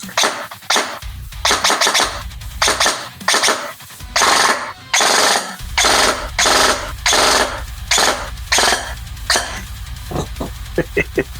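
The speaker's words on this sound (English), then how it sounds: "All right, might as well empty it out." Rapid bursts of shots from an airsoft MP5-SD6 with an LDX Advance 3.0 gearbox, big spring and spring drum, emptying the magazine, loud and close, with short pauses between strings of fire and a few single shots at the end.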